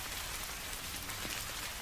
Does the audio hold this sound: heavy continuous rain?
yes